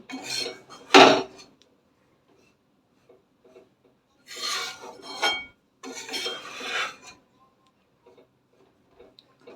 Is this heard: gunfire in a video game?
no